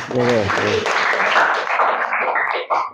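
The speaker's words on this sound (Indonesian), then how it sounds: "Tepuk tangannya." A class of students applauds during an Islamic religious education lesson, a dense patter of claps mixed with young voices calling out at the start, fairly loud and steady for about three seconds before tapering off.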